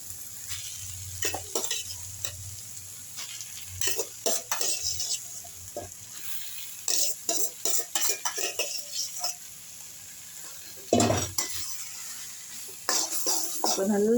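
A spoon scrapes and clinks around a pan as rice is stirred into sizzling egg masala, in bursts of irregular metallic scraping over a faint frying sizzle, with quiet gaps between strokes.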